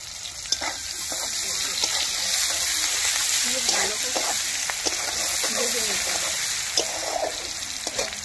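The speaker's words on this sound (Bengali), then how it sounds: "পেঁয়াজ ভাজার তেলেতে" Onions fry in oil with a continuous close sizzle and scattered sharp crackles and pops. Faint talk sits in the background.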